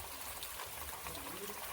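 Borewell water runs from a pump at a village house with a mango tree, a steady soft broadband rush of flowing water heard at a moderate distance with no clear talk over it.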